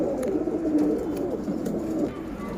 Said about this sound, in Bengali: আমি এবং আমার কবুতরগুলো সুস্থ আছে কবুতরগুলোকে খাবার দিব